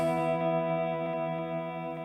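A TC Electronic Infinite Sample Sustainer pedal holding a long, steady sustained guitar chord swell, a layered drone with faint pulsing flutters.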